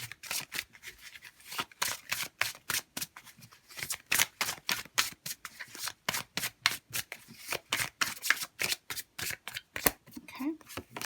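Tarot cards riffled and shuffled by hand, a long run of quick crisp flutters and slaps in close repeated bursts, with a quiet voice speaking in places.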